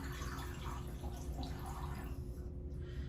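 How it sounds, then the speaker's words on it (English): Stop bath solution from roll film processing is poured out of a developing tank down a sink drain, giving a steady, fairly loud rush of liquid over a constant low hum, close by and alone. "open the lid, and again, you're gonna pour straight down the drain"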